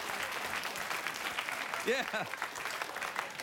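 Late-night talk show studio audience applauding, a steady wash of clapping throughout, with someone speaking briefly over it.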